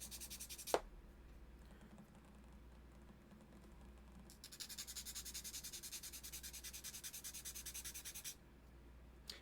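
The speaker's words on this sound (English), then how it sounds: "And this is 400 grit on this sanding block here." Steady rhythmic scuffing of a 400-grit sanding block rubbing back and forth over the plastic sides of a model kit, close and fairly quiet, with brief pauses between passes.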